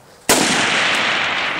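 A single loud, close AK-47 rifle shot cracks sharply and leaves a long, broad echo that decays slowly, with no talk.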